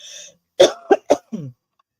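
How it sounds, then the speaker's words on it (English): A few sharp, close coughs follow a short throat clearing, then a lower rasping clear at the end, with silence between bursts. "I'm like coughing all in your ear."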